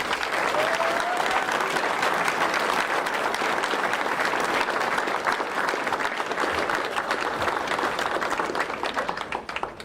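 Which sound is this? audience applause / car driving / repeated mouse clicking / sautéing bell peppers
audience applause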